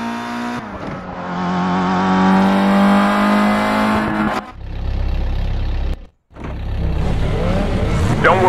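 A race car engine in the GT Racing 2 video game revs hard with rising and falling pitch, then cuts out briefly before roaring back up, loud and close.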